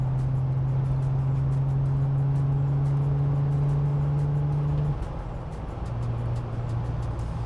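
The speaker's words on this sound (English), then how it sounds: "I'll get it up to some higher RPMs and shift it" From inside a manual Jeep Wrangler JL Sahara, the engine holds a steady, humming drone at higher revs, then drops abruptly in pitch as the gear shifts, carrying on at a lower, rougher note.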